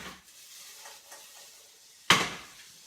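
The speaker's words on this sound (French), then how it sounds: "Je vais retourner mes courgettes." Courgettes flipped over in a hot frying pan with a utensil, soft scraping and stirring followed by one sudden loud burst of sizzling that fades out, no speech.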